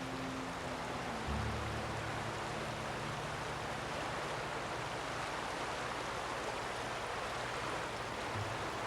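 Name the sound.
waterfall rushing in video game The Outer Worlds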